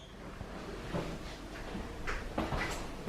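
A hotel bathroom sliding door rolls open or shut with soft scraping and a few light knocks over room ambience, fairly close, with no talking.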